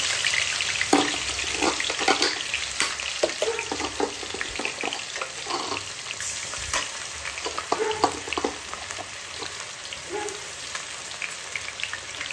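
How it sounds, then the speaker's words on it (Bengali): Onion, green chilli and ginger paste sizzle steadily in a hot wok over the full length, with scattered crackles and the scrape of stirring rising above the constant frying hiss; no voices. "পেঁয়াজ আর কাঁচা লঙ্কা আর এই আদার পেস্টের মধ্যে কড়াইতে দিয়ে দিই।"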